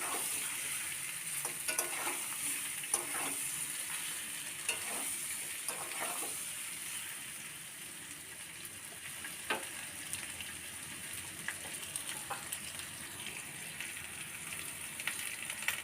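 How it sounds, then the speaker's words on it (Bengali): Taro and potatoes frying in a pan over high to medium flame, a steady close sizzle with scattered scraping stirs of a utensil against the pan at irregular intervals, no voices. "হাই টু মিডিয়াম ফ্লেমে মানকচু আলু ভালো করে ভেজে নিতে হবে।"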